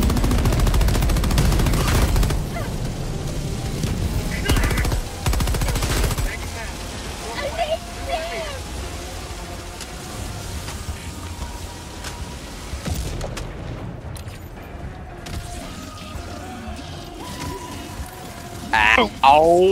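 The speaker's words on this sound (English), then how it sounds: "Recoilless rifle." Heavy gunfire and explosive blasts from the recoilless rifle in Helldivers 2, loud booming shots early, then quieter shooting and effects while players talk.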